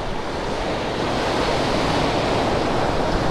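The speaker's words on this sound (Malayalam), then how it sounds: "ഈ വെള്ളം ഉണ്ടല്ലോ ഇങ്ങ് വരും, ഈ കല്ലിലൊക്കെ വന്ന് അടിക്കും." Sea waves surging onto the rocks at Pozhikkara beach in Paravur, Kollam: a continuous heavy roar of surf that swells slightly, loud and close, with some wind buffeting the microphone.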